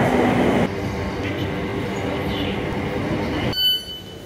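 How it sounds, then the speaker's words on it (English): A passenger train between Kingston and Richmond rumbles and rattles steadily from inside the carriage, with a brief squeal of wheels and a faint tone near the end. "I am on the train to Richmond from Kingston."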